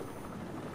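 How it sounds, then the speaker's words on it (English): Helicopters fly over Founders Island in the video game Batman Arkham Knight, heard as a faint, steady rotor drone with no clear beat across the short stretch. "Choppers are taking flight as we speak, Batman."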